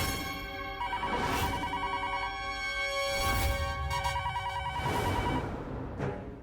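A telephone bell rings steadily in a household sitcom scene, its electronic tone repeating in bursts throughout, loud and close with no talking over it.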